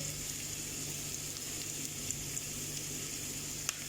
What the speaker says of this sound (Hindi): तो इसे अब हम फ्राई करते हैं।